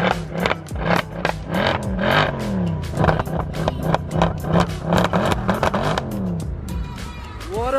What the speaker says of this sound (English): Now listen to the exhaust of it.